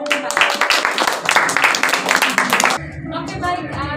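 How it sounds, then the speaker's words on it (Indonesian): Applause for group 4 in a classroom lesson, as a burst of students clapping under mixed chatter that stops abruptly partway through, followed by a teacher's voice. "tepuk tangan untuk kelompok 4"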